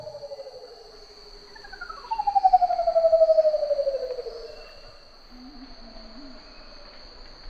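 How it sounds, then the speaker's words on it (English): A curl-crested manucode, a bird of paradise from islands off New Guinea's far eastern tip, gives one long, hollow, haunting whistle that slides downward and swells at its middle, set against a steady high insect drone. "one of the most haunting and intriguing vocalizations comes from the curl-crested manicode"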